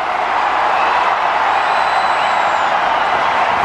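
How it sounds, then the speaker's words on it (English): A large crowd at a cricket Test match in Ahmedabad roars in a loud, sustained, even cheer that fills the whole moment without a break. "And a big cheer because it was Tendulkar chasing the ball"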